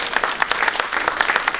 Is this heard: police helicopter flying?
no